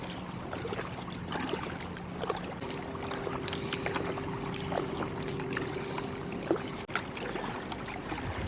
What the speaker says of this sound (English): we are paddling out to North Brother Island